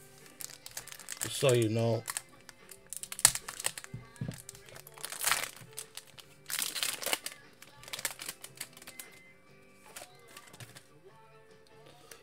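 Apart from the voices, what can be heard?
card pack wrapper being cut open with a knife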